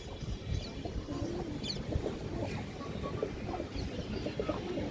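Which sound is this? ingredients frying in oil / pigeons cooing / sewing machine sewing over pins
pigeons cooing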